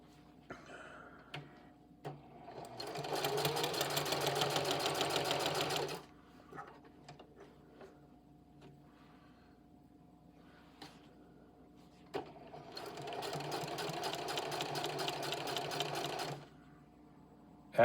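Singer HD 4411 sewing machine fitted with an even feed presser foot stitching heavy fabric, two steady bursts of fast rhythmic whirring and needle clatter, each a few seconds long, separated by a quiet pause with small clicks.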